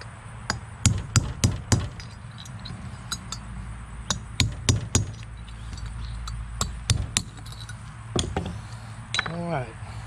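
Hammer blows driving the inner wheel bearings out of a boat trailer hub, bursts of sharp metallic strikes in quick clusters with pauses between, close and loud over a steady low hum.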